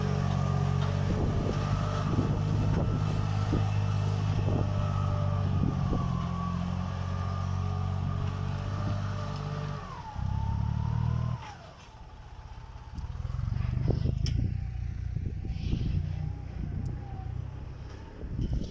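A loud diesel engine of a Başak 2060 tractor pulling a 20-disc harrow rumbles steadily, dips and changes pitch about halfway, then keeps running with rattling and revving.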